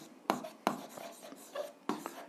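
Pen strokes scratch out a math solution for a seventh-grade algebra exercise, quiet close taps and short scratches in an irregular rhythm.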